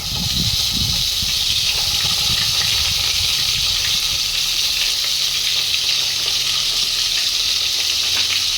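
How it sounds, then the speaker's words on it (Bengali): Ginger paste hits hot oil in a pan while a pangas fish curry is being cooked, giving a loud, continuous sizzle and hiss that stays steady throughout, close up with no talking. "তার জন্য আমি এখানে দিয়ে দেবো আদা বাটা 2 চামচ।"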